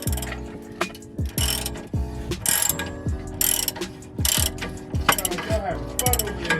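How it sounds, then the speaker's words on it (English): Rapid ratcheting clicks from a torque wrench working on a Nissan 350Z during a plenum spacer and Y-pipe install, coming in repeated close bursts with short pauses between strokes. "Torque wrench all day"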